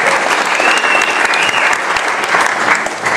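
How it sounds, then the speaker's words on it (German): Audience applause at a JESUS HOUSE evening event in Weingarten, celebrating a KSC win, steady and dense crowd clapping that stays loud throughout, with no voices over it. "das hat auch einen Applaus wert, dass der KSC endlich mal wieder gewinnt"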